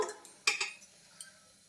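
A wok (kadai) is set down on a gas stove with a few light metallic knocks: a sharp clank, a quick second tap, then a softer knock a moment later, close by and otherwise quiet.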